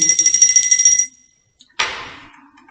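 Small handheld bells jingle in a rapid shimmering burst for about a second, stop, then ring out once more with a bright strike that decays slowly.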